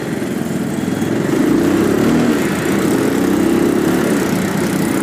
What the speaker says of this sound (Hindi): Ignition on. Here it goes to life. First gear.